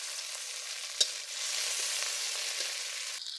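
Tomatoes fry in hot mustard oil with garlic and dried chilli in a wok, a continuous bright sizzle broken by one sharp clack of the stirring utensil near the start and softer scraping after.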